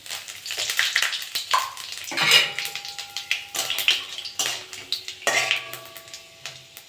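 Panch phoron and neem leaves dropped into hot mustard oil in a kadai produce close, sputtering sizzles with scraping and clinking of a spatula against the pan in uneven bursts.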